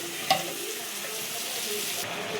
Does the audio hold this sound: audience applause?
no